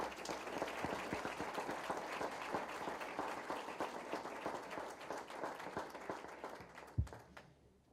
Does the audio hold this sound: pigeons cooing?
no